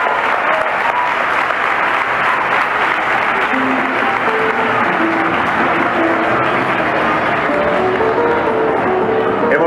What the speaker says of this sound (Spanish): Aplauso fuertísimo para ella.